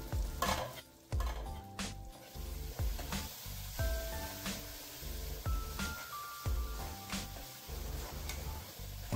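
Tomatoes sautéing with turmeric powder and ginger garlic paste in a pan, with steady sizzling and repeated stirring scrapes, close and moderately loud.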